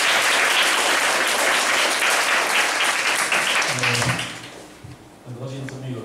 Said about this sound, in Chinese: 那我们现在马上就先热烈掌声欢迎吴律师老师